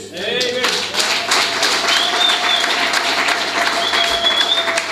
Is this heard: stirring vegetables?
no